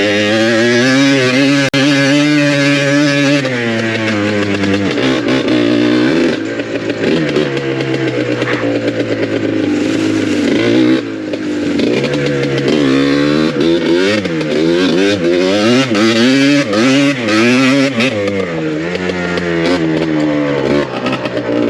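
Yamaha Blaster ATV engine revving loud and close throughout, its pitch climbing and falling in repeated surges as the throttle opens and eases off during a first ride.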